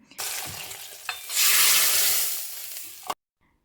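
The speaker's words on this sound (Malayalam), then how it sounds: "വെളിച്ചെണ്ണയിൽ കടുക് പൊട്ടിച്ച് ചെറിയുള്ളിയും കറിവേപ്പിലയൊക്കെ ചേർത്ത് കറി ഒന്ന് താളിച്ചെടുത്തു" Hot coconut oil sizzles loudly as mustard seeds, shallots and curry leaves crackle in a pan, swelling into a bright hiss midway before cutting off abruptly.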